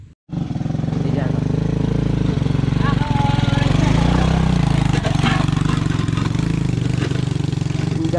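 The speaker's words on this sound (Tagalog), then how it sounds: "kawawa yung motor natin sa sobrang rough road na to" A Yamaha Aerox 155 scooter rides over a rough road, its engine droning steadily and close for the whole stretch after a brief quiet start, with rattling and bumps over the rough surface.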